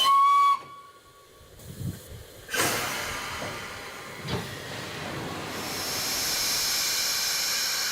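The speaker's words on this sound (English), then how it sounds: "Steam fills Tornado's cylinders." Steam locomotive Tornado hissing as steam fills its cylinders at Doncaster Station, with a loud broad hiss building after a brief whistle-like tone and continuing steadily to the end.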